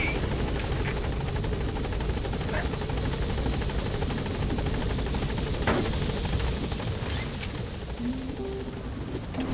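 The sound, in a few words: helicopter from the video game Metal Gear Solid V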